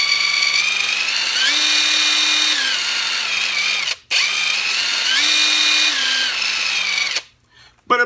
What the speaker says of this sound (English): chuck cordless impact driver.